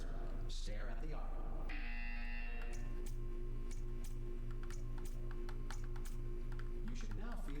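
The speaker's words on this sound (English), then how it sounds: "You will hear a buzzer." A sustained electronic buzzer tone in the Portal 2 video game, steady and loud across the whole stretch, layered with a repeating pulsing pattern and clicky game sounds, with speech over it.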